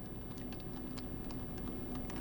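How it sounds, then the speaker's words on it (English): Keys clack on a computer keyboard in a steady patter of soft, quick taps over a constant low hum, quiet and without talk, while setting up a Samsung Galaxy M31. "Press Y on your keyboard, enter, Y, enter"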